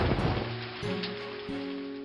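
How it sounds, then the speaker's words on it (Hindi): Heavy rain falls at night as a dense, steady hiss of drops, continuous and moderately loud, with a few faint tonal notes beneath it and no voices. "रात भर जोर से बारिश हो रही थी।"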